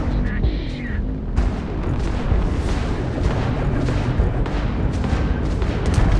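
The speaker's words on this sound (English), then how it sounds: "that's a Crimson Fleet ship bringing its weapons to bear" Crimson Fleet ship weapons firing in a Starfield space battle, a steady heavy barrage of booming blasts and rumbling impacts that continues without letup, with faint voice chatter underneath.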